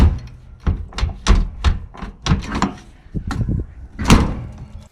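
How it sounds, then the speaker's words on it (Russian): Doors on an old car left abandoned for thirty years, one door not closing fully, give a series of close, loud thunks and rattling clunks in quick succession, each short and hard. "Дверьми не хлопай только."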